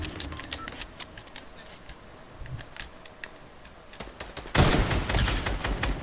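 Rapid bursts of enemy gunfire in a video game, a string of faint crackling shots that swells into a dense, loud volley near the end.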